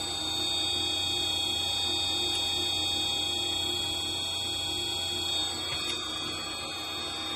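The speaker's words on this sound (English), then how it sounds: "I'm demonstrating the NF80 cold pressed oil machine" An NF80 cold press oil machine runs at 15 hertz pressing raw almonds, giving off a steady, even mechanical hum with constant high tonal whine, unbroken for several seconds and with no voices.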